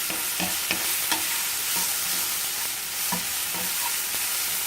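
Vegetables for a Greek omelet frying in a pan, a loud continuous sizzle with light stirring taps and scrapes close by.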